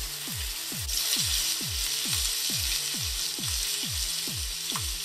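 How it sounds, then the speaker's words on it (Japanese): Beef searing in a frying pan with sesame oil, salt and pepper for roast beef: a steady, close, broadband sizzle runs throughout, with a regular series of low pulses underneath and no talk. "焦げ目をですね、つけるまでしっかり焼いていきましょう"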